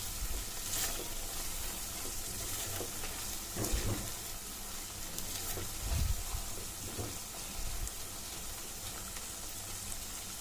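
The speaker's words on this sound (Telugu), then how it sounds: "ఇలా గ్రేవీ అంతా ఆయిల్లో ఉడికినప్పుడు ఆయిల్ పైకి వెళ్తుంది కదండి" Mirchi ka salan gravy sizzles and bubbles in oil as it is stirred, a steady close frying hiss with occasional soft scraping bumps from the spoon.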